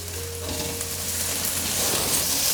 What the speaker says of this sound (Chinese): 继续翻炒